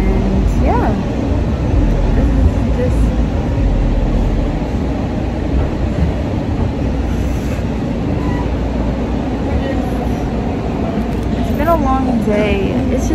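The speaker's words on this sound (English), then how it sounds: "So, now we're on the train, and we're going to the airport" A passenger train heading to the airport rumbles steadily from inside the car, a constant low roar with faint rattles and squeals, while people talk over it throughout.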